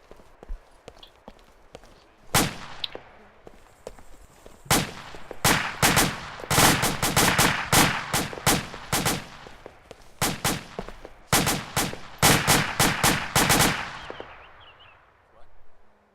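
A team fires guns on command during a drill, with sharp, loud shots ringing out first singly and then in rapid bursts and irregular volleys, shouted commands heard between the shots.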